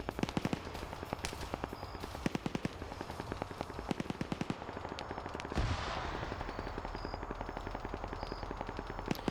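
Rapid automatic gunfire and single shots from a tactical shooter match, dense bursts throughout with an explosion-like boom midway, loud and continuous with no talk.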